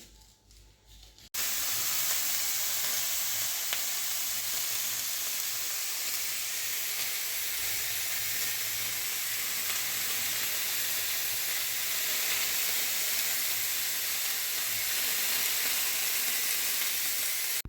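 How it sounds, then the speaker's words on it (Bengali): Vegetables frying in a hot pan in a home kitchen, a loud, steady sizzle and hiss that starts abruptly and carries on without a break. "এদিকে সবজিগুলো ভাজা বসিয়ে দিয়েছি"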